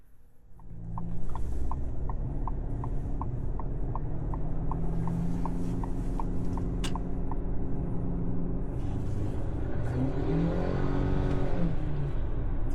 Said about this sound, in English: let's go ahead and take this for a quick drive